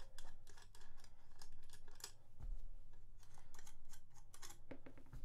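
Needle nose pliers work tiny nuts loose, making faint, close metallic clicks and ticks in an irregular rhythm over quiet background.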